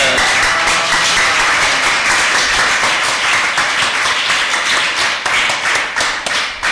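A church congregation applauds loudly and steadily, dense clapping filling the space without pause, with a few scattered voices mixed into the crowd noise.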